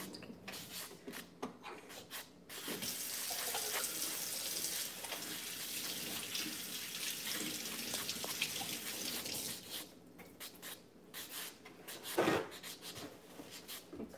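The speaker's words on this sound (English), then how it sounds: "I'm going to rinse my nails." Tap water runs over freshly painted nails during a home manicure with a soft, steady rush lasting several seconds. Quieter rubbing and handling sounds come before and after.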